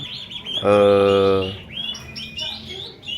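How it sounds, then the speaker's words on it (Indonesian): Young emprit kaji munia chicks give one loud, sustained, tonal call lasting about a second, followed by fainter, scattered high chirps. "anakan burung emprit kaji di produksi yang ke-6 ini"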